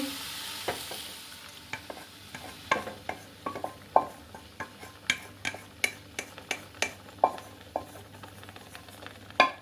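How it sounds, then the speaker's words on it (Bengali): Thickened milk being stirred into a pan for cabbage sandesh, with a spoon scraping and tapping the pan in a steady run of sharp clicks over a soft sizzle, close and fairly quiet. "এবার এই দুধটা মিশিয়ে দিচ্ছি।"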